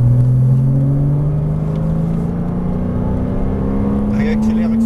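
Porsche Cayman S accelerating on a track at Fontenay-le-Comte, a loud steady engine drone rising in pitch throughout, heard from inside the car.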